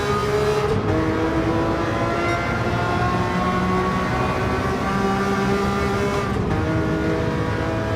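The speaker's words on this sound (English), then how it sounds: "I just love the sound of this Ferrari" A Ferrari racing car engine in Gran Turismo 7 roars steadily at high revs, with sharp gear shifts breaking the continuous drone, loud and close.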